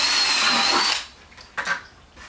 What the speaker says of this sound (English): Take the 1/4-inch drill and drill holes in the bottom of the bucket